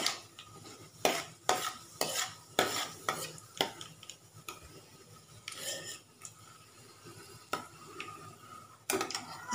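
Tempering seeds frying in a pan for a cooking recipe, stirred with a utensil in a quick run of sharp scraping strokes and clinks over a faint sizzle, close by and with no talking.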